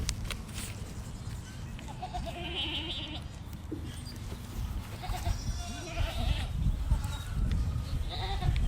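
Nigerian Dwarf goats, a small goat breed, bleat in a farm setting, several wavering calls scattered across the stretch over a busy, rumbling background with some people talking nearby.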